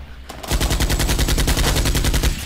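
A Kalashnikov fires a rapid, loud, evenly spaced automatic burst of about two seconds in a Minecraft zombie apocalypse game, starting after a short quiet pause, with no talking.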